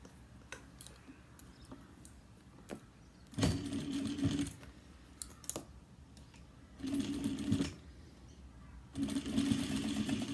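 A domestic sewing machine stitches a seam on a cross-body bag with a recessed zipper and gusset, running in three short bursts of steady whirring, close and moderately loud, with quiet pauses and faint ticks between runs.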